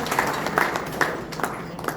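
Audience applause at a ministerial conference for the iron, steel, engineering and metal sector: a steady wash of many hands clapping in a hall, with individual sharper claps popping out now and then, moderately loud and without speech.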